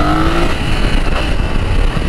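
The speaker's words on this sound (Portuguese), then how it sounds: "Até o ronco do motor muda." BMW F900 GS motorcycle engine in dynamic riding mode, revving loud and close, a steady throaty roar that climbs at the start and holds through the whole stretch with no voices.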